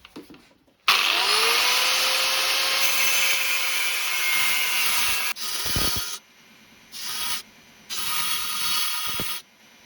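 Wood being cut for an ultra-light bushcraft tripod suspension, a steady loud machine-like rasping that runs for several seconds, then breaks into shorter separate bursts of cutting.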